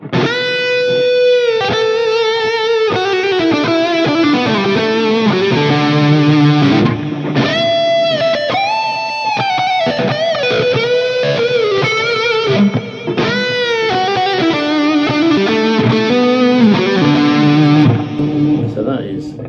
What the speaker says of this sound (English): So that is, again, neck pickup with a proper distortion.